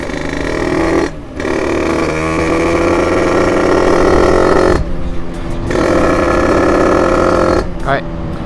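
A 50cc Yamaha DT two-stroke motorcycle running a 165 main jet revs close by, a loud buzzing engine note broken by several sudden cutouts and stumbles, with a person speaking over it.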